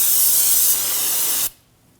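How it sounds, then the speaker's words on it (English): Brake parts cleaner sprays onto a brake rotor on a 2013-2015 Subaru XV Crosstrek as a loud, close, continuous hiss lasting about a second and a half before cutting off sharply. "Before installing the rotor, we're going to clean it down using some brake parts cleaner."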